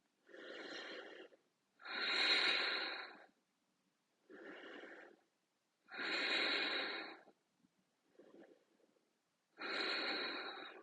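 Deep breathing during a hatha yoga posture: slow, close breaths, with about six distinct inhales and exhales separated by short silences, some louder and rougher than others, no talking.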